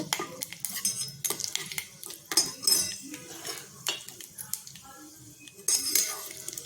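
Dry red chilies and cumin roasting in a pan, stirred with a metal spoon: irregular scraping clinks and rattles over a light sizzle, close and moderately quiet.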